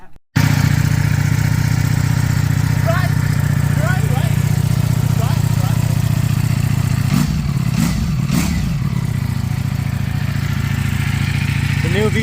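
A new Ducati V4 motorcycle engine runs loud and steady close by, with a low idle-like drone and a brief burst of revving near the middle, while people talk over it.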